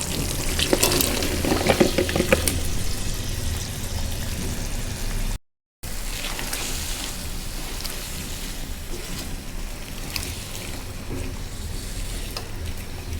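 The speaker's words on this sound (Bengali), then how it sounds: "ভালোভাবে কষিয়ে নিচ্ছি" Eggplant and potato with ground dried fish sizzle and fry hard in a pan, a loud continuous crackling hiss close by, with occasional stirring scrapes and a brief dropout midway.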